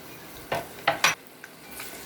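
Red chilies, ginger and onion go into a tablespoon of hot oil, a few sharp stirring and clinking bursts from a spoon in the pan over a faint background sizzle, brief and close.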